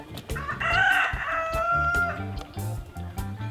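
A flock of about 200 chickens clucks busily, with one drawn-out crowing call standing out near the start amid steady low thumping.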